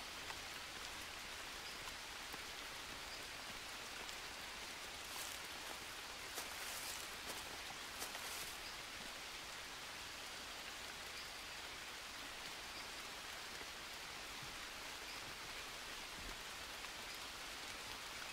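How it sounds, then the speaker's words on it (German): Steady rain falling outside in the survival video game Green Hell, a dense even hiss of drops that runs throughout at low volume with no talking. "dass es draußen regnet"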